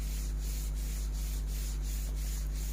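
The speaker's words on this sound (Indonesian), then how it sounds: "Ini proses pengamplasannya." Sandpaper rubbed by hand over wood in steady back-and-forth strokes, each pass a soft rasping swish in an even rhythm, close and continuous with no talking.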